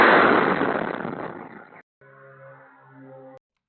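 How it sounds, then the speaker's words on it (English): A drone explosion striking a building in Rostov-on-Don, heard as a loud, broad roaring blast that fades over about two seconds, followed by a quieter humming tone after a brief gap. "You're going to see an explosion from a drone crashing over here in Rostov-on-Don"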